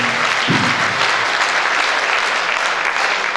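Steady, dense applause from a large audience, loud and continuous throughout, with a brief voice or tone near the start.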